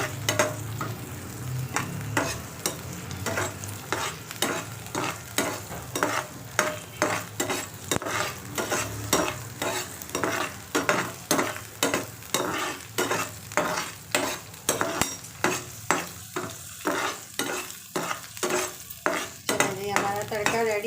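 Repeated stirring and scraping in a pan over a steady sizzle of spices tempering in hot oil for a dhaba-style potato masala, close up with no talking.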